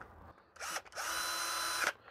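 A cordless power drill running during installation of a bar inside an RV, a short whir followed by a longer steady high-pitched spin of about a second, close and fairly loud with no talking.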